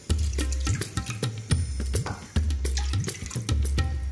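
Spring water pours steadily into a cooking vessel in a kitchen, a continuous splashing, gurgling flow with small irregular surges, close and fairly quiet, with no talk.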